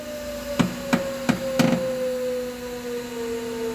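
A CRX15FL forklift with a faulty creaking noise during lifting produces four sharp creaking knocks in quick succession over a steady electric motor hum, close and moderately loud.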